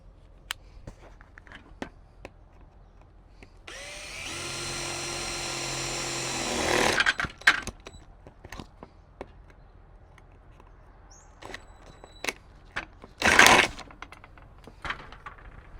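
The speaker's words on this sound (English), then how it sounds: "we got our holes drilled in our awning at each end" A power drill bores holes into the awning of a new composite caravan, giving a steady whining run of about three seconds and a second short burst. Scattered clicks and knocks surround it.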